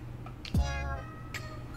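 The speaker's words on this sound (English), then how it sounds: "you hear happy meowing" A cat meows in the video game Boyfriend Dungeon: one clear, close, tonal meow rising then holding, over a quiet background hum.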